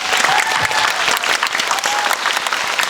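A large audience at a fan screening of a Netflix series claps loudly and steadily, a thick continuous wash of hands filling the hall throughout.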